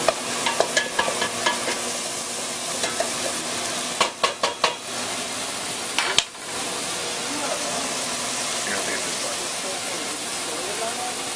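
Carrots and celery sizzling in a hot pan, a loud continuous frying hiss with a burst of clattering stirring strokes early on and a sharp metallic knock midway.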